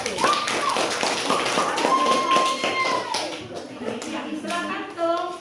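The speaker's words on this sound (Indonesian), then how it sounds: "Terima kasih, tepuk tangan untuk kelompok 1." A classroom of students claps for a group after its presentation, a brisk patter of hands mixed with children's chatter and a teacher's voice talking over it.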